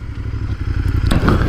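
Royal Enfield motorcycle engine running steadily at close range, a deep, even, throbbing rumble with a light mechanical clatter, growing slightly fuller near the end.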